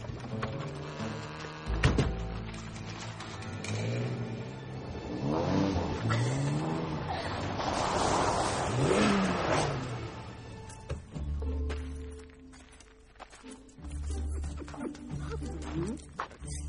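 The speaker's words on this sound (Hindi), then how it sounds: "ओह माय गॉड, एक कार है, जल्दी चलो।" A car approaches and revs past in a film scene, its engine rising and swelling to a loud peak mid-way before fading, mixed with music and occasional voices.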